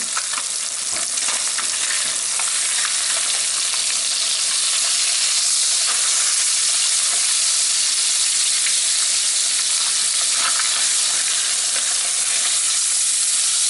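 Fish fries in a hot pan, and a loud, dense sizzle hisses steadily and up close throughout, with faint stirring underneath and no voices.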